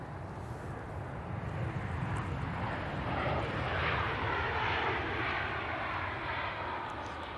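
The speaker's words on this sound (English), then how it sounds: "there is a Jet2 A321 Neo coming out, not to be confused with the Boeing 757" A Jet2 Airbus A321neo takes off at Manchester Airport, its engines a steady, broad roar that swells slightly midway and holds loud throughout, with no voices.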